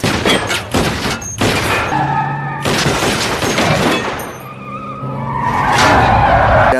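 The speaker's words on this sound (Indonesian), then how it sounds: "Dan saat Frank menabrak mobil lain" Car crash in an action film, with loud tire skids and squeals, heavy impact bursts and rumbling layered in a dense, continuous cinematic mix.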